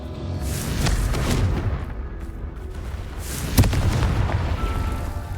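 Confringo fire-blast spell explosion from Hogwarts Legacy, a dense rumbling game combat mix with one sharp blast near the middle standing out above steady booming background noise.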